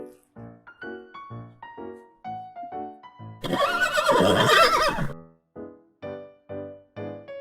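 A horse neighs loudly in a burst of harsh, breathy whinnying, set between repeated bright tonal musical notes playing before and after.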